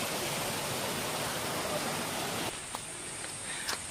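Water flows and falls at Rampa waterfall in Andhra Pradesh as a soft, even rushing hiss that stays steady and fairly faint, with a few small knocks near the end.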